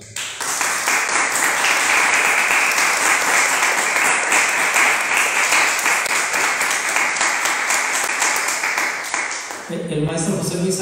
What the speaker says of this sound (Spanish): al maestro Lázaro Acosta, para quien pido un fuerte aplauso.